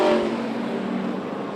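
Super sedan race cars at Archerfield Speedway at night, engines roaring loudly with a sustained revving drone as the field passes, strongest at the start and easing slightly.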